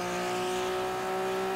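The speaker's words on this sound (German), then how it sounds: "Also den Motorsound höre ich nur rechts." A race car engine in the video game Wreckfest drones at a steady, sustained pitch, loud and continuous with a faint tire hiss, no voices.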